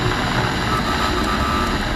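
Airplane jet engines roar in flight during a movie scene, a loud, steady, unbroken drone filling the whole stretch with no voices.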